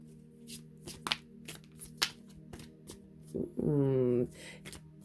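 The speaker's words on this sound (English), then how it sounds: "The cards normally shuffle very well, but I keep getting blockages and stops." Repeated crisp riffling bursts of tarot cards being shuffled, coming in short uneven runs as the cards catch and stop, with a voice talking over them and a brief hum near the end.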